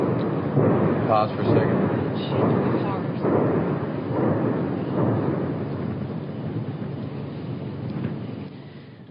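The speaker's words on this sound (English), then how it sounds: "heard a series of blasts strong enough that I could feel my inside shake, the vehicles around us shake" A sustained, heavy series of deep rumbling blasts rolls on continuously, recorded at a levee project site, with people talking over the din.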